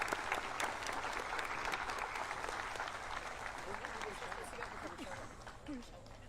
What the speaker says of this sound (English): Let's give a big round of applause for these five.